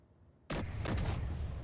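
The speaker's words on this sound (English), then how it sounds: "You can fire off each cannon at a time" Cannons on a ship in Space Engineers firing in rapid succession, a sudden loud burst of heavy booming blasts that erupts after a quiet moment and continues as a rumbling barrage.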